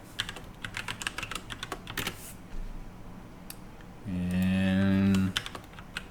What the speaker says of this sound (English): manually typing it is.